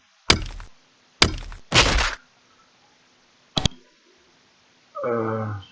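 Rocks thrown at enemies in the game Avernum land as a few sharp, loud thunks and cracks, separated by short silences, followed by a brief rumbling effect.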